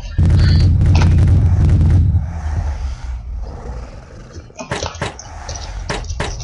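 Grenade blast in the Box Head 2 video game, a loud booming burst that dominates the opening two seconds, followed by fading rumble and a few sharp game impacts.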